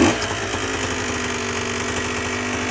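A 2023 Beta 125 Race Edition motorcycle with a failed clutch fires up with a brief burst, then settles into a steady, close, buzzing idle with no talking over it.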